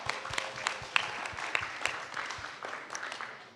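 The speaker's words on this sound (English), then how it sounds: "so let's give them a round of applause." An audience at a community talk event gives a round of applause, sharp individual claps standing out over a steady crowd patter that thins as it fades out.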